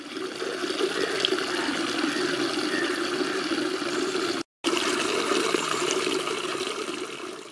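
Water from a tap on a railway station platform at Thuvvur runs steadily with a continuous rushing, splashing sound that breaks off for a moment and then resumes.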